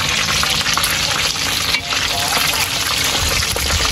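Chicken pieces fry in hot oil as the second batch goes in, giving a steady dense sizzle that runs unbroken for the whole stretch with no clear talk over it.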